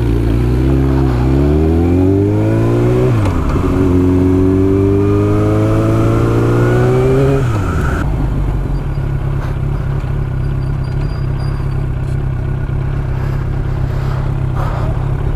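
A Yamaha R1 motorcycle pulls away and accelerates hard, its engine note climbing through rising revs with gear changes over about eight seconds, then settling into a steady cruising drone with road noise.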